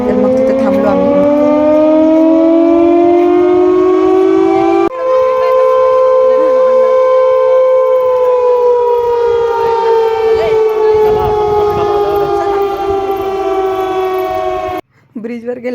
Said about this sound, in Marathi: ब्रिजवर गेल्यावर अचानक असं सायरन वाजायला लागला